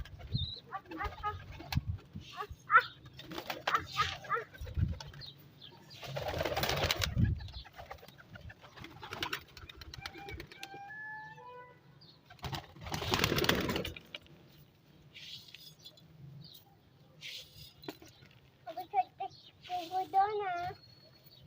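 Pigeons at a backyard breeding setup with netting give intermittent soft coos between bursts of nearby rustling and handling noise, while people, including a child, talk throughout.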